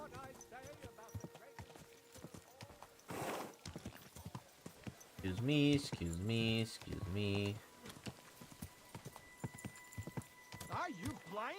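Horse hooves clip-clop in Kingdom Come Deliverance 2, a steady trot heard close under several voices talking, with a horse's whinny nearby.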